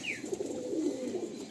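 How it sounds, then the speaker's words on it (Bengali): A male Giribaz pigeon coos nearby in a low, soft, rolling burble that continues through the short moment, with a faint higher chirp at the start. "এটা আমার নর পায়রা।"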